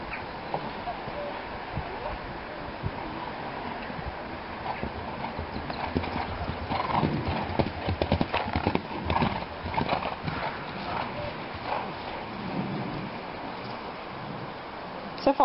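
Horse hooves clip-clop steadily on the ground while a rider practises falconry on horseback, a continuous muffled rhythm of footfalls at mid distance with faint background voices.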